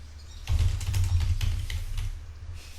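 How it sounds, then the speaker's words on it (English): Typing a message on a computer keyboard, a run of quick irregular key clicks over roughly two and a half seconds against a low steady hum, close and fairly quiet with no voices. "this is where you will type out your message"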